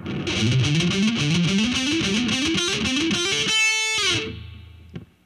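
Heavy metal electric guitar lick, distorted and palm muted, quick chugging notes climbing in repeating three-note groups before a held ringing note, played loud and alone.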